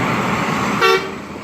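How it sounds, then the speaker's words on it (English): A truck horn gives a single short, bright honk partway through, standing out clearly over a continuous wash of nearby roadway traffic noise. "Truck coming through. Beep, beep."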